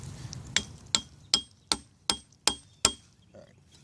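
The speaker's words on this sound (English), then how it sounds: "Now I'm going to try and drive it in, see if I can get it in there." A trimmed wooden stake is hammered into the ground outdoors, with seven sharp, evenly spaced knocks at a steady rhythm, close and fairly loud, and no talk over them.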